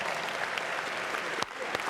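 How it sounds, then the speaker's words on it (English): Large audience applauding at a National Urban League conference keynote, a thick sustained roar of clapping from a packed hall, with a couple of louder claps or thumps standing out near the end. "Give yourselves a big round of applause."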